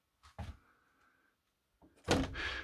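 A light mosquito-net screen door is pulled shut by a rubber-band closer: a soft knock and a creak, a pause, then a louder thud as it closes, all near and without voices.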